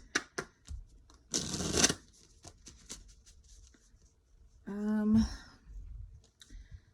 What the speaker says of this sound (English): Shuffle these cards real quick.